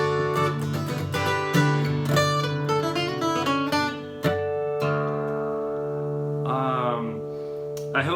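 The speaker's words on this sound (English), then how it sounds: "I want to show you a cool ending that I like to use" An acoustic guitar in drop D tuning plays a quick run of plucked notes into a ringing ending with a sliding final note, close and clear with no talking.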